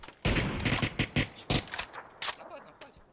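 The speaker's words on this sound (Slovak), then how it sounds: "On tak strieľa, že ja mám taký pocit, že on je kúsok odo mňa." Rapid bursts of gunfire from a firefight in the PUBG video game, several sharp shots in quick clusters, fairly close and loud, with no talk over them.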